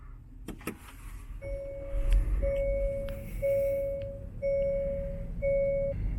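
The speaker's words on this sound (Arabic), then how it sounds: "طيب الآن حنشغل السيارة. طبعا تشغيل السيارة عن طريق البصمة." Hyundai Azera 2021 being started by fingerprint, heard as a series of steady electronic chime tones repeating about five times in even pulses, with some faint mechanical clicks and low cabin rumble at the start; no talking.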